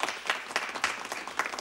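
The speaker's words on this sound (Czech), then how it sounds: "Ukončete potlesk" An audience in a Czech musical fairy tale breaks into applause, a short burst of uneven clapping with distinct individual hand claps close by, rising and falling across the moment.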